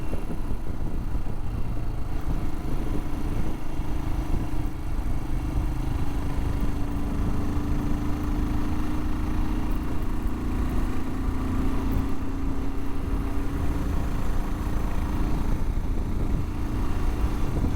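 A Royal Enfield Himalayan motorcycle rides along a road, its engine holding a steady, continuous drone under constant wind and road rumble throughout, with no talking.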